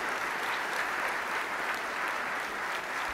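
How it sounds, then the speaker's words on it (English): Conference keynote audience clapping for project maintainers, a dense sustained wash of applause from a large crowd, steady and fairly loud throughout with no talk over it. "let's give them a big hand of applause for all the amazing work"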